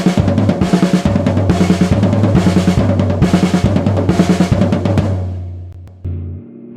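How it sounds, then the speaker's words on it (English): A fast drum exercise alternates snare hits with a deep floor tom, played in a steady, rapid, even rhythm that is loud and close, then stops with a ringing tail. "Now, that exercise sped up with the snare as the 1 count sounds like this."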